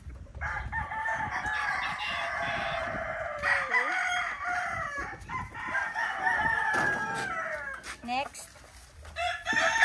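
A white Kelso rooster crows repeatedly close by, with clucking and other fowl around, while someone speaks briefly over the sounds.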